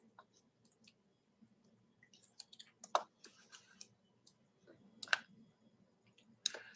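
Sparse, quiet clicks of a computer mouse, a few isolated taps with a couple of sharper, louder clicks, over a faint low background hum.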